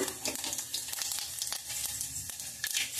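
Chillies fry in hot oil for a Kannada-style usali gravy, a steady close crackling sizzle with sharp pops throughout, no voices.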